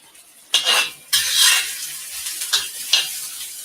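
Fried rice with garlic stirred in a wok with a metal wok shovel, loud scraping strokes over a steady hiss of frying, several uneven stirs close up, no speech.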